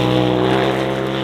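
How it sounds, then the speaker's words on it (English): A Polaris RZR Turbo R side-by-side's turbocharged engine drones steadily and loud, with a dense harmonic roar holding for a brief moment as power swells; no distinct wastegate burst stands out. "You get this big swell of power, you can hear the wastegate go off"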